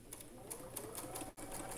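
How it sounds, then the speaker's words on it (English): A sewing machine stitches the bottom pieces of quilted bat wing blocks onto background fabric, a steady close mechanical whir with rapid needle ticks that pauses briefly once before running on. "now I'll sew on those."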